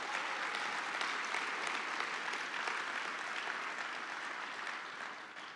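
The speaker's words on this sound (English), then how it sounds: "Give her a round of applause." Audience applause at a general session event in Washington DC, a steady wash of clapping from a large crowd that holds evenly for several seconds before slowly tapering off, with no talking over it.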